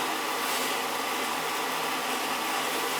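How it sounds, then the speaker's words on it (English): A Tjernlund power venter on an oil boiler runs with a steady, broadband whooshing hum, constant and close, with no voices. "The power venter's not pulling in."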